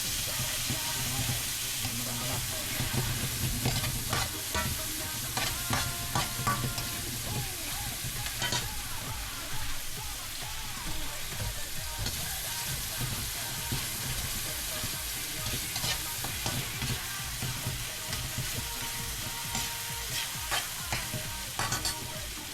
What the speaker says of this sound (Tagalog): gigisayin ko lang maigi yung kamatis bago ko lalagay